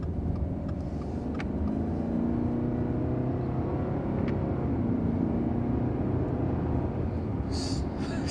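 A 2021 Subaru Outback's engine with CVT drones at high revs from inside the cabin, a steady low rumble and whir that holds constant throughout.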